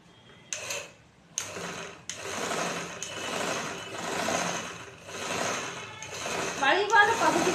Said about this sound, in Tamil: இது வளைவான பகுதி ஆனதுனால தையலை இந்த மடிப்பு ஓரமாக வெளி ஓரமாக தையல் போடுறோம்.